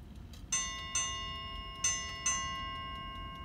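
A new Chelsea ship's bell clock striking three bells at half past nine, four quiet metallic chimes in pairs with ringing tones decaying between strikes, heard alone in a quiet room.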